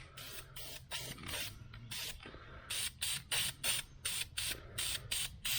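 An aerosol spray can hisses in repeated short bursts while engine parts from a 1976 El Camino are painted, each spray close and steady, the rhythm quickening toward the end.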